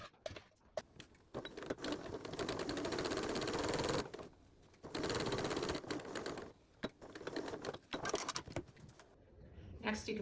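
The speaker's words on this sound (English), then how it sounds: "you're going to sew along this edge using a 1/2 inch seam allowance" A sewing machine joins two fabric pieces along an edge at a half-inch seam allowance for a measuring cup cover, running in loud sustained bursts with short pauses between runs.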